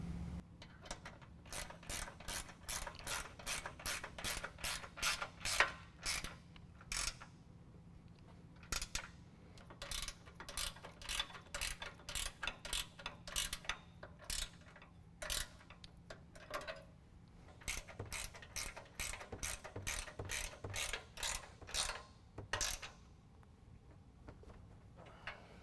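A hand ratchet tightening the bolts of a Westin Pro-Mod front bumper on a 2019 Ram 1500, with crisp rapid clicking in repeated bursts separated by brief pauses, close and clear.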